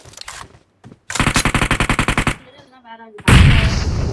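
Automatic gunfire in the BGMI video game rattles out as a rapid, evenly spaced burst of about a dozen loud shots, followed by a lull with faint tones and then a heavy, sustained blast, with a voice briefly at the start.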